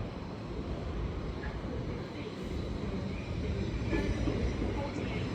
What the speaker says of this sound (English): There's 377-704 departs behind me bound for London Victoria